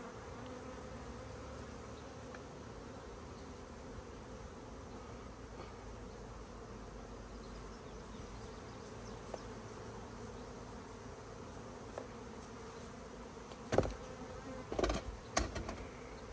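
Steady low buzzing of many honeybees humming continuously around a hive during a honey harvest, a soft droning swarm with a few brief handling clicks near the end.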